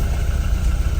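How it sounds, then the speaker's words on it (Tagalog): A vehicle engine running behind people heading to the sea in Ilocos Sur, a low steady rumble, close and fairly loud, in a brief moment with no talk. "May sasakyan sa likod."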